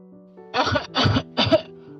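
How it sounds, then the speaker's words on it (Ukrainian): Three harsh coughs in quick succession, close and fairly loud, with quiet moments before and after. "У мене кашель, я застудився."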